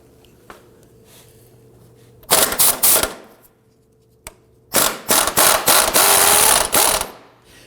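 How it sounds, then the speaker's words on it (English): Pneumatic impact gun hammering an 18mm lower control arm bolt on a 2008–2011 Ford Focus, two loud rattling bursts, one short and one longer, separated by a quiet pause, close by with no talk. "We're going to use our impact gun."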